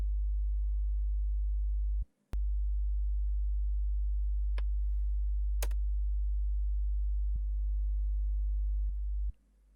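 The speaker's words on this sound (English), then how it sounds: "I have two of these 50 hertz sine waves played at once and they cancel each other" A steady, deep electronic hum of two 50 hertz sine waves played together, briefly dropping out twice as they cancel, with occasional faint clicks.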